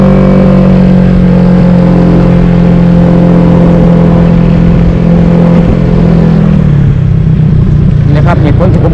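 A car drives along at a steady pace, its engine holding a loud, continuous drone that drops in pitch near the end as it eases off, with someone talking over it throughout.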